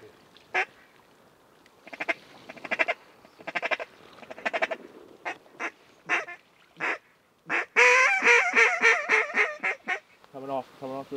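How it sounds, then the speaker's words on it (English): Ducks calling overhead during an opening-day public land duck hunt in New York's Northern Zone, with repeated honking quacks arriving in loud, close bursts, some rapid chattering runs, and hunters talking quietly between calls. "Big duck."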